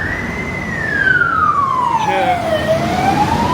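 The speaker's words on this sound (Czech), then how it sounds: "sanitka." An ambulance siren wails on a Singapore street near Little India, loud and close, with one long falling sweep and rising tone over steady traffic rumble, and a brief spoken word.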